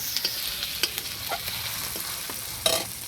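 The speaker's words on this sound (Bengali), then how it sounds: "এরকম ছোলাটা ভালো ভাজা হয়ে যাবে" Chickpeas fry in a pan with spices while a spoon stirs them, making quick scraping strokes over a soft, close sizzle, with no voices.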